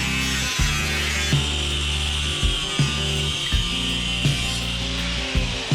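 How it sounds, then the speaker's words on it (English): An angle grinder cuts 1mm steel during motorcycle frame fabrication on a Honda Hornet custom build, with a loud, continuous droning grind and a regular pulsing bite as the disc works through the metal. "I'm going to use my grinder here for the 1mm steel bit to get that cut as tight as I can"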